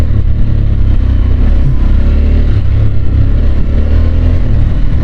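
A Harley-Davidson Sportster S motorcycle engine accelerates on a road ride, a loud continuous rumbling drone mixed with wind roar, close and steady.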